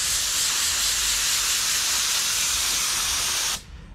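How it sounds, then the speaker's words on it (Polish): Compressed air blasts water off a nano ceramic coated car, a loud steady hiss that runs unbroken for about three and a half seconds before cutting off abruptly into quiet. "Teraz biorę sprężone powietrze i zaatakuję to sprężonym powietrzem."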